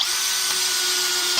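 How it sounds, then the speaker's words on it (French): A power drill set to screwing mode with a low clutch setting drives a T20-bit screw into an aluminium window frame, giving one close, steady, high whine that runs through the whole moment. "Je me suis réglé sur vissage et sur une petite vitesse, enfin sur un petit débrayage."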